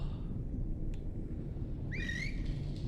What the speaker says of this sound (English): if you press and hold the down key, he'll whistle